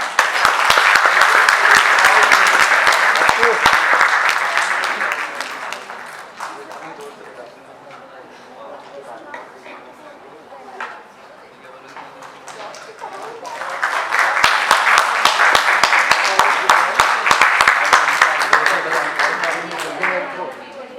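Loud applause from an audience at a Founder's Day award ceremony swells, fades to scattered clapping in the middle, then rises again into a full round of clapping.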